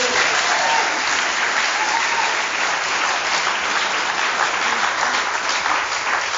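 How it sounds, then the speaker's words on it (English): Sustained applause from an audience at a Step 1 talk at the Life Is Good recovery group in Boca Raton, steady dense clapping that stays loud and even for the whole stretch. "Let's give her a round of applause."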